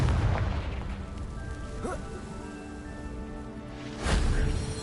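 The Confringo explosive spell from Hogwarts Legacy goes off as a dull, rumbling burst at the start, with a second boom near the end over low game ambience.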